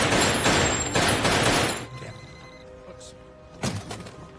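Staged gunfire in a film scene where hostages are pretended to be shot: a dense burst of loud cracking shots for about two seconds, then a quieter stretch and one more sharp blast near the end.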